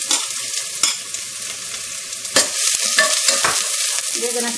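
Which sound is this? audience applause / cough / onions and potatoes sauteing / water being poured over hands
onions and potatoes sauteing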